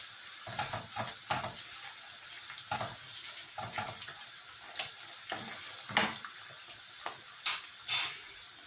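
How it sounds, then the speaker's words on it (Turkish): Tomato, pepper and tomato paste sauté in a pan with a steady sizzle, broken by scraping stirs and clacks of a spoon against the pan at irregular intervals, close up and with no talking. "Şöyle biraz kavurayım."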